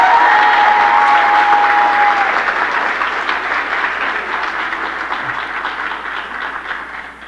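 An audience applauds after children's performances at an evening show, a dense, loud wash of clapping that slowly fades, with a brief tone at the start.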